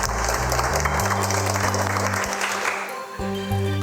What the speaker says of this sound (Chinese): 他嘅用一啲掌声嚟歡迎你